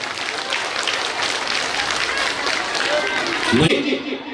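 A crowd applauding at a village gathering, a steady dense clatter of hands mixed with murmuring voices, swelling briefly near the end.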